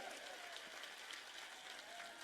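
An audience at a spiritual discourse applauding, with steady, dense clapping from a crowd heard at a distance, continuous and even throughout.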